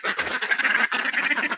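A flock of ducks at a rural household at rice-feeding time, quacking loudly and close in dense overlapping calls through the whole short burst.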